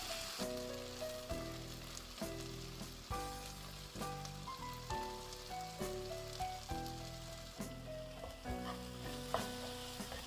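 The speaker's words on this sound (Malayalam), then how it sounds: "നന്നായിട്ട് വഴണ്ട് വരുന്നവരെ ഇളക്കി കൊടുക്കുക" Beef roast masala is stirred and sautéed in a pan, with a faint sizzle and soft, regular spoon strokes about once a second, while quiet tonal background music plays underneath.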